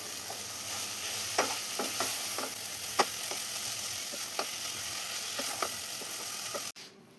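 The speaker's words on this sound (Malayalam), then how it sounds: "ഇനി ഇതെല്ലാം കൂടെ ഒന്ന് മിക്സ് ചെയ്തെടുക്കണം" Fried bitter gourd being stirred into a spicy masala in a pan, a constant sizzle under repeated spatula scrapes and clicks, close and steady, ending in a sudden cut.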